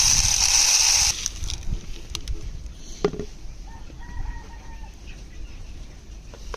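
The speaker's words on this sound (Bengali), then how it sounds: "এখন খাবার দেবো দেখাবো আপনাদের মুরগি কেমন খায়" Laying hens cluck and chatter as they are fed, with a loud burst of calling at first that settles into scattered nearby clucks and rooster-like calls.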